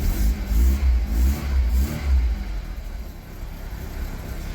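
An Austin Princess engine fires up on choke and revs in uneven, throaty bursts that settle into a rough, lumpy fast idle, loud and close with no talking.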